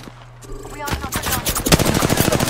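Rapid automatic gunfire in a shooter video game, a dense run of close, loud shots building over a couple of seconds, with faint talk beneath.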